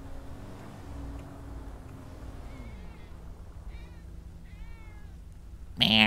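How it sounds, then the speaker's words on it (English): Several short meows from a cat inside the GTA V video game, rising over a steady low engine hum, with a louder burst of noise at the very end. "Meow. It's kitty meow."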